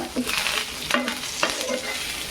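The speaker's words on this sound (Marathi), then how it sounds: "का कडीपत्त्याचा कसा आवाज येते" Washed curry leaves roast in a pan until crisp, giving a close, steady crackling sizzle broken by a few sharp scraping stirs of a spoon against the pan.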